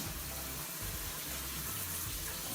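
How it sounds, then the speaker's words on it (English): Water from a kitchen sink sprayer rinses cooked beans in a colander, a steady close hiss and splash that runs without a break. "Rinse those beans right off."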